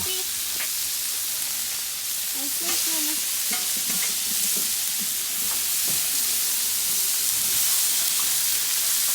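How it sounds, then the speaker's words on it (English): Burgers sizzle on a hot Blackstone griddle in a steady, close frying hiss, with occasional light scrapes and taps, as if from a spatula. "Zayne, we ought to flip them burgers now?"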